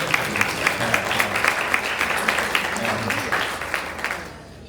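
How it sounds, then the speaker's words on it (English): Guests at a scholarship dinner clap in a warm round of applause, with rhythmic individual claps standing out over the room's murmur and voices before fading out at the end. "give her a round of applause"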